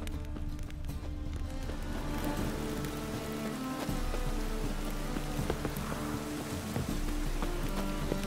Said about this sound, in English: So dark despite being morning due to the rain.